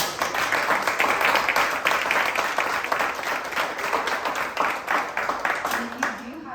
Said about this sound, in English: if you guys would just give everybody a round of applause